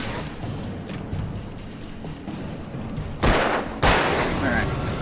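Two loud, sharp gunshots from the video game Alan Wake crack out close together near the end, after a stretch of quieter game ambience.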